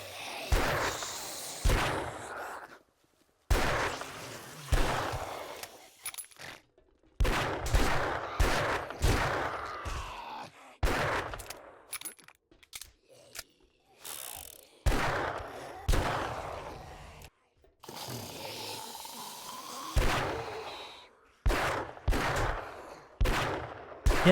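Rapid gunfire bursts from the survival game 7 Days to Die, loud and close, firing in repeated volleys separated by brief silences throughout.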